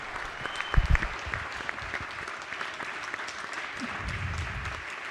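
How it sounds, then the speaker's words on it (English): Applause rises in a legislative House of Delegates chamber during a floor session, a steady crowd clapping that swells near the start and again toward the end, with faint murmuring beneath. "please let's give them another round of applause."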